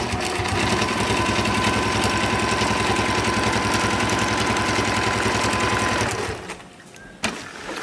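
A sewing machine runs a fast zigzag stitch along a UV sacrificial strip on a genoa or jib sail, a loud, even mechanical chatter for about six seconds before stopping, followed by a brief clunk.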